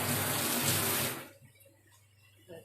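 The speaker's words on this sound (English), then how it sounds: "now I'm going to add coconut milk out here" Coconut milk pours from a tin into a cooking pot, a steady liquid stream for just over a second that cuts off abruptly, followed by faint kitchen sounds.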